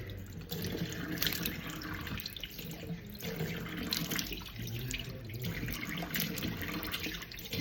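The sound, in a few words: tap water running, washing off tomato face pack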